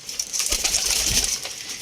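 Pigeons coo and rustle close by, a soft continuous murmur of cooing with a few wing flutters.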